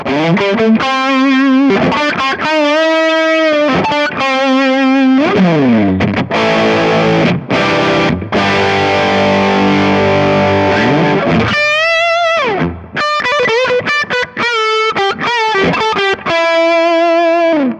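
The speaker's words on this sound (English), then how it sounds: "Let's up the distortion level a little bit." Electric guitar through a Kemper Profiling Amp with the distortion level raised rings out with thick sustained chords and buzzing held notes, followed by quick lead runs, loud and continuous.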